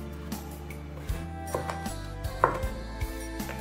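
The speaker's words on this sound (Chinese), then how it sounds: "切点红辣椒" A knife chops red chili pepper on a cutting board, a series of crisp, irregular taps close by, some sharper than others.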